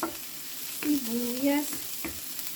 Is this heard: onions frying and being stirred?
yes